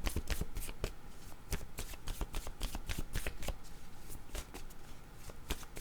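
Oracle cards being shuffled by hand for a reading, a steady run of close, crisp riffling and slapping card sounds that goes on without pause and with no talk.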